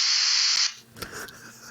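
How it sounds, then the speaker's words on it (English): A Star Trek hypospray injection hiss sounds as a short, bright, airy spray lasting under a second, cutting off abruptly into quiet low-level background noise. "you took a hypo spray"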